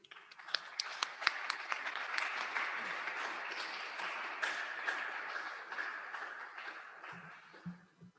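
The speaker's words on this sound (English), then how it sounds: "Let us give an applause to our speaker for a very wonderful talk." An audience at a lecture event claps for the speaker, starting with a few sharp claps and swelling into sustained applause before it thins and fades near the end.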